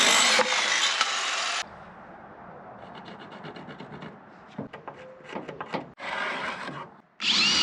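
Plywood is cut for the seat base of a cheap kid's snowmobile. A tool rasps loudly and harshly in several bursts, separated by quieter handling, knocks and rubbing on the wood.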